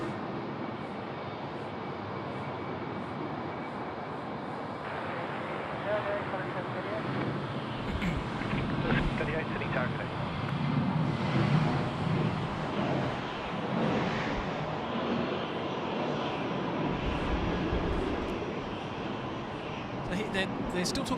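A Virgin Australia Velocity 1092 airliner rolls for takeoff at Sydney Airport bound for Launceston, its engine roar building and swelling in the distance under ongoing talk.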